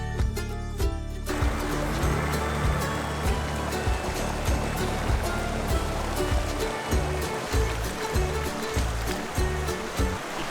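A river flows toward a waterfall in Utah, its steady rushing water loud and close with continuous broadband splashing, and rhythmic low thumps and clicks running through it.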